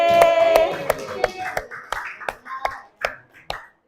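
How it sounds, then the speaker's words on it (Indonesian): A small group of classroom students clapping for the first-place winner of a lesson quiz, a few loose, uneven claps following a voice, sparse and close, fading out quickly. "Tepuk tangan untuk Egi"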